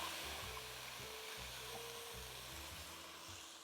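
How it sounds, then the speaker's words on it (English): Onions and frozen mixed yellow, green and red peppers sauté in a pan for an oil-free casserole, producing a steady close sizzle with a low hum underneath that continues without pause and with no voices. "we're gonna saute this stuff for about 10 minutes"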